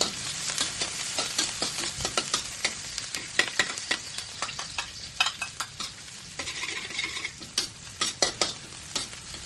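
Onion sautéing in hot cooking oil, a steady crackling sizzle broken by sharp clicks and scrapes of stirring, close and moderately loud throughout, with no voices.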